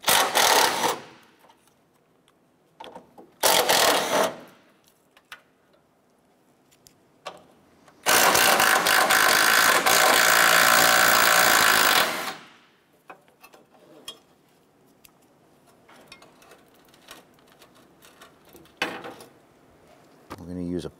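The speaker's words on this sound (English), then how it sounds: "Using a 13 millimeter socket, we're gonna go ahead and remove the bolts securing this side bracket on the side." Ratchet with a 13 mm socket backing out bracket bolts on a 2006-2013 Chevrolet Impala during A/C condenser replacement, heard as several short close clicking bursts and one sustained four-second run of rapid ratcheting, with quiet gaps between.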